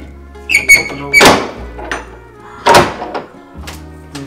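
A big house door in Morocco swings open, giving a few heavy wooden thunks and knocks close by, with quieter rattles in between.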